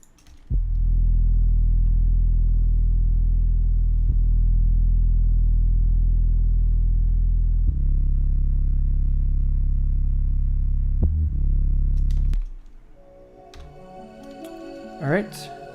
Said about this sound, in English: The only bass that I used was the Juggernaut 808s from Contact 5 on the Big Byte preset.